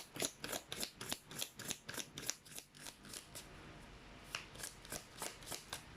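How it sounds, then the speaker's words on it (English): A deck of cardstock tarot cards is shuffled close up, producing quick riffling bursts in an irregular rhythm of about a dozen crisp flutters, soft and intimate with no talking over them. "let's try to shuffle the cards before we begin."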